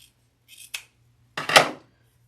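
Scissors cutting quilt block fabric: a couple of brief snips followed by one longer, louder slicing cut, close and crisp with no talk.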